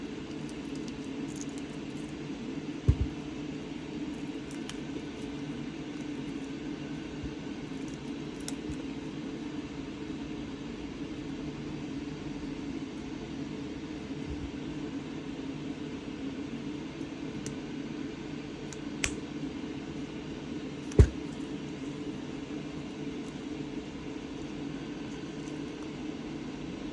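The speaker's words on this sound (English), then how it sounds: "air purifier's going off." A household air purifier runs as a steady low hum with a constant airy hiss, faint and unchanging throughout, broken only by a few sharp clicks.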